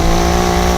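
Alfa Romeo Giulia Quadrifoglio's 2.9-liter twin-turbo Ferrari-derived V6 revving hard, a loud, steady, high-pitched engine note held close and continuous without any voices.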